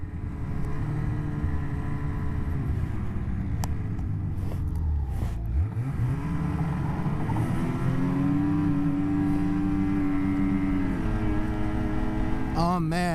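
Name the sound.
snowmobiles riding on a trail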